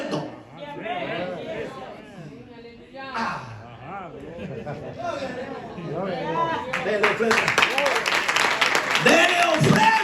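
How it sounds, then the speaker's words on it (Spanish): In a youth church service, a preacher's voice carries loudly at first, then the congregation breaks into rhythmic clapping offered to Jesus, the claps growing denser and louder alongside shouting voices. "Dele ofrenda de palmas a Jesús."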